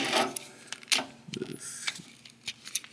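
Plastic parts of a Transformers Age of the Primes Leader Class Megatronus Prime figure snapping together, a series of sharp close clicks and small rattles spread across a few seconds, with no talking.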